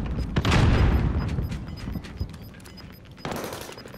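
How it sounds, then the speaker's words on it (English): A grenade goes off in the Call of Duty: Warzone video game, a loud booming blast with rumbling low end that decays slowly, followed by a second sharp crack of gunfire or explosion near the end. "That's grenade, oh, shoot, grenade."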